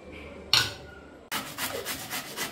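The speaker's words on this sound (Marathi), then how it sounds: "तर आपण आता हे सोलून घेतलेलं आहे आता आपण किसून घेऊ" A peeled vegetable is grated by hand for thalipeeth: one brief scrape, a pause, then a run of quick, rhythmic rasping strokes, close and moderately soft.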